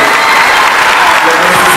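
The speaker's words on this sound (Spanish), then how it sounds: "Realmente fuertes aplausos para estos" An audience applauds a school music band at an awards ceremony, a loud, close, thick roar of clapping and crowd noise that fills the short moment without a break.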